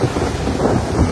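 A storm rumbles with low thunder and steady blowing wind, a dense, continuous roar without pauses, loud and close, set at sea.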